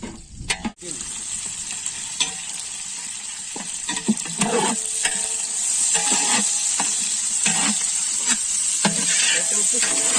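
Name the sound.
curry leaves and chopped onions frying in a pan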